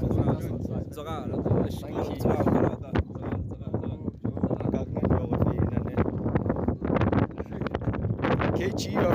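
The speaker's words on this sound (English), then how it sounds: "the wind is not doing nice" Wind buffets a microphone outdoors in loud, irregular gusts and rumbles, mixed with several people talking and laughing nearby.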